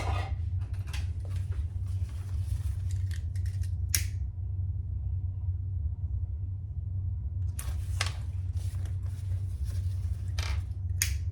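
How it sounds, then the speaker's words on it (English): Scissors snipping off excess zipper tape during bag sewing: a few short, crisp cuts near the start and a cluster again toward the end, with a quiet stretch between over a steady low hum. "Trim off your excess zipper"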